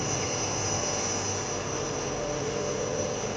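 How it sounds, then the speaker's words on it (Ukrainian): Water circulation pump motors run in the pool water-treatment plant of a new sports complex in Poltava, making a constant, loud mechanical hum and hiss with no break. "Двигуни, які постійно циркулюють воду."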